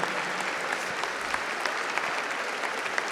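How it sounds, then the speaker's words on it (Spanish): A conference audience breaks into applause, a loud, even roar of many people clapping nearby, continuous and uninterrupted throughout with no voices rising above it. "Un aplauso, Evo."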